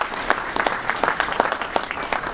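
Guests at a Rancho Cordova luncheon give a short round of applause, separate crisp hand claps ringing out in a loose, moderate rhythm, near and clear indoors.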